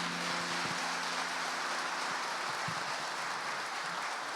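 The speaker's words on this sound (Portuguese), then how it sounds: "Vamos dar um aplauso ao Senhor." Applause from a church congregation, a steady dense patter of clapping filling the room at moderate level, with faint tonal traces underneath and no clear talk.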